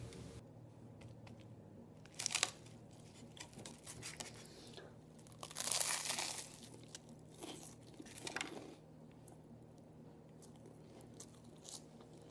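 Someone eating a tuna sandwich on toast with onions and honey mustard, with faint crunchy bites and chewing, plus a rustle of crinkling, at close range over quiet background.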